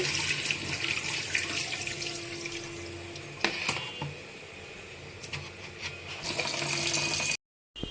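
Goat brain is washed under a running kitchen tap. Water streams and splashes steadily into a sink, with a few sharp knocks of handling before the flow cuts off briefly near the end.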